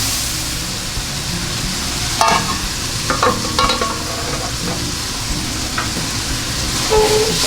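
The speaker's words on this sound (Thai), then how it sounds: "เมื่อเราผัดมะเขือมาได้สัก แป๊บหนึ่งแล้วนะครับ เราก็จะเปิดฝาดู" Eggplant stir-frying in a pan for a Thai spicy squid dish, a steady close sizzle with scattered clinks and scraping sounds as the pieces are moved around.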